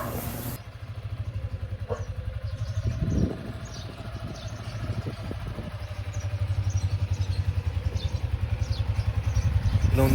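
A motorcycle engine catches and settles into a steady, close idle, its quick even putter running unbroken to the end with no talking.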